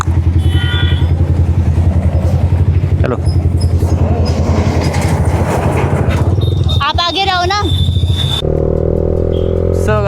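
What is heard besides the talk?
motorcycle riding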